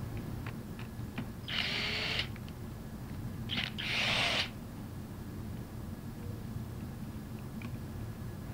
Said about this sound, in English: we're going to use a cordless impact gun.